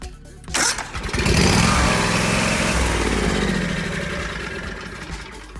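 A lawn mower engine, just repaired after a loose part was tightened, is pulled and catches, then roars loudly and steadily up close before easing slightly.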